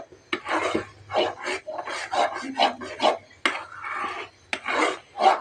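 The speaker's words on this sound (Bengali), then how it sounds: "আরও কিছুক্ষণ ভাজা করে নেব" A spatula scrapes and rubs against a pan in repeated rasping strokes as lentil bharta is fried and stirred on a wood-fired stove, close and fairly loud with short pauses between strokes.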